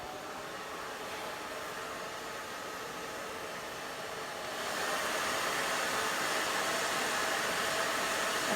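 A hair dryer fitted with a diffuser blows in a steady broadband whoosh during a blow-dry, stepping up to a louder, stronger rush about halfway through and holding there.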